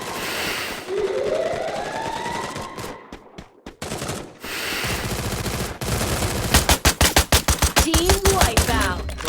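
Gunfire in the mobile battle-royale game Free Fire, including shotgun shots, with sharp rapid bursts stacking up near the end over a dense game soundscape.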